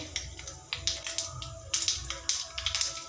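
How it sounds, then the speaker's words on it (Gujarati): Mustard seeds crackle and pop in hot oil during the tempering for a toor dal, heard as irregular sharp snaps close by, with no talk. "રાઈ ફૂટવા લાગી છે"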